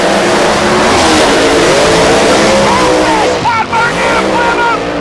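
A Pro Mod Chevrolet Corvette at a drag race launches with a loud, continuous engine roar that surges as the throttle comes on and off, with a track announcer talking over it.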